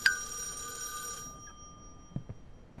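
A telephone rings in a tense, horror-themed setting, one shrill electronic ring lasting about a second before cutting off, followed by a few quiet knocks and a near-silent room.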